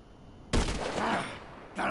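Gunfire in the video game GTA V: a loud, abrupt burst of shots lasting about a second, then a short gap and another blast starting at the end, over a quiet background.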